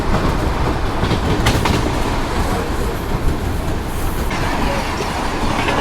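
The Brindavan Express runs from Bengaluru toward Chennai, heard from inside a general coach as a loud, steady rumble and rattle of wheels on rails with a faint clickety-clack throughout.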